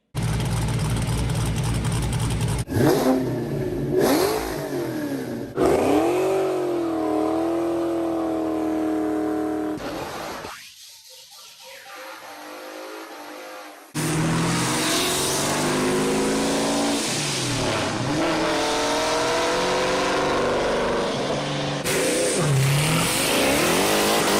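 A 5.0 Ford Mustang Foxbody with a modified exhaust revs hard in repeated loud bursts, rising and falling engine roars with a brief quieter lull midway before the revving resumes strongly.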